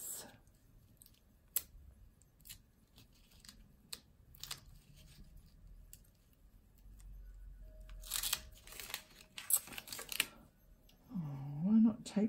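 Paper card being cut and torn: scattered crisp snips and clicks early on, then a louder burst of tearing and crunching near the end, with voices talking at times.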